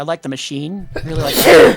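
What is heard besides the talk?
sneeze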